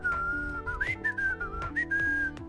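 A person whistling a short wavering tune, several sustained notes with small slides between them, over a quiet game soundtrack with low musical tones, no talk.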